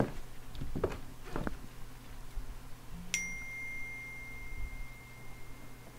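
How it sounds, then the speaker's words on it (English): A phone notification chimes once, a short bright ding with a ringing tail that fades over a few seconds, fairly quiet amid soft room noise and a few faint taps. "Seriously, my phone's going off now."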